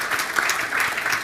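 Audience clapping at a formal celebration event, a brief steady patter of hands from a seated crowd, moderately loud and continuous without anyone speaking over it.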